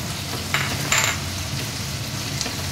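A paste of garlic, chili and onion fries steadily in hot oil, with a continuous loud sizzle and occasional stirring scrapes of the spoon against the pan.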